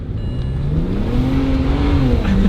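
BMW E90 335i engine revving at full boost, a loud close roar whose pitch climbs steadily and then dips briefly before rising again as the car accelerates hard.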